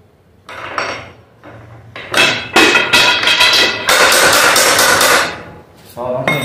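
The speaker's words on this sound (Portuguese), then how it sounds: "Eu tô batendo pra tirar o eixo e o eixo tá batendo" Metal-on-metal hammer blows knock the brake axle out of a 2013 Fan 150 motorcycle, a close, loud run of hard strikes in irregular bursts with short pauses between them.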